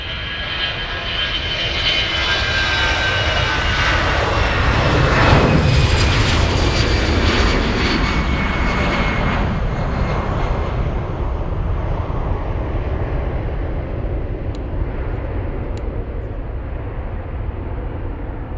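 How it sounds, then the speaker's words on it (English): Lufthansa airliner taking off from Munich airport bound for Athens, a loud engine roar swelling to a peak mid-way and then slowly fading into a distant rumble. "Next takeoff, we have Lufthansa 1746 to Athens."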